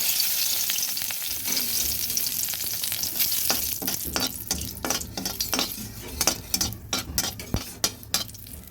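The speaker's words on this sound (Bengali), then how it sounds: "কড়াইতে তেল দিয়েছি তেলও গরম হয়ে গেছে এবার দিয়ে দেব তেজপাতা আর শুকনো লঙ্কা দিয়ে দিচ্ছি" Bay leaves and dried red chilies fry in hot oil in a wok, a dense close sizzle punctuated by sharp crackles and spatters that grow more scattered and popping toward the end, with no talking.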